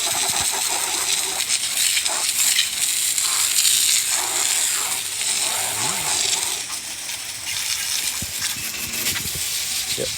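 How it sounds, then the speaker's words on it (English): Water spray rinsing mud off a Hisun UTV, a steady loud hiss that continues throughout without a break. "Rinse it all off good."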